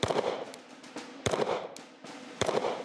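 Rapid gunfire on a military shooting range during a timed maneuver-and-shoot drill, heard as three sharp cracks about a second apart, each trailing off into a reverberant rumble.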